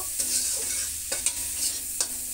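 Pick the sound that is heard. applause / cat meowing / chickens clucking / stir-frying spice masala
stir-frying spice masala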